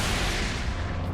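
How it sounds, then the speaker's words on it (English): Sentry guns in the Space Marine video game fire in a dense, continuous burst of loud gunfire that fills the whole moment without pause. "Sentry guns ahead."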